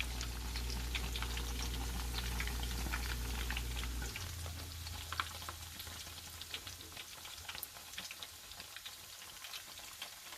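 Cordon bleu deep frying in oil in a covered pan on stovetop cookware, a continuous soft crackle and sizzle with scattered pops; a low hum drops away after a few seconds, leaving the quiet frying alone.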